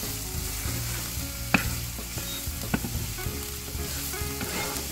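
Scallion and scotch bonnet pepper fry in hot oil for a Jamaican beef patty filling, giving a steady close sizzle with a couple of sharp utensil taps, no talking.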